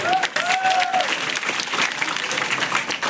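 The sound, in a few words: applause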